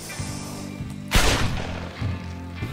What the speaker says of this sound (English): Shot a civilian, he looked too sus.